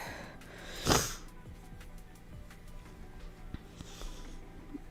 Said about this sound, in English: if you hear me sniffling and snorting